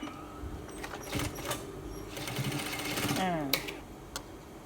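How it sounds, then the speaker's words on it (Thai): A sewing machine stitches a jeans waistband in short, rapid bursts, close by, with pauses between runs and a faint voice in the background. "แล้วเราก็ทำการเย็บล็อกไว้เลยนะคะ"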